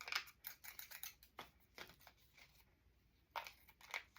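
Scissors snip away excess paper on a small embellished file folder in a series of short, crisp cuts with brief pauses between them, close and quiet with no talking.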